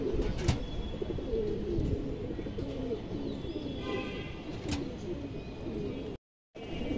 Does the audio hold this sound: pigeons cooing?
yes